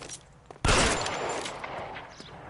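A sharp gunshot rings out in the video game L.A. Noire, followed by a long echoing tail fading over a couple of seconds amid quiet background sounds.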